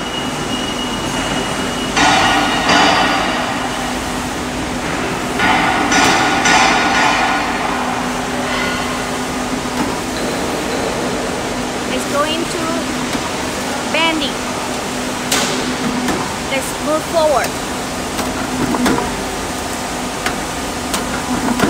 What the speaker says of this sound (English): now we are going to run it on the machine